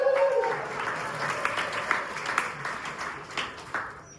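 An audience at a comedy club claps and applauds for a few seconds, a scattered, moderately loud burst of clapping that starts strong and tapers off.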